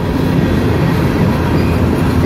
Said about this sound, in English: Train's going mighty slow